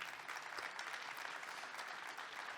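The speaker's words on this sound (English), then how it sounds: "can I get a big round of applause for her?" Audience at a corporate keynote event applauds with a continuous, even wash of many hands clapping. It sounds faint and somewhat distant, with no speech over it.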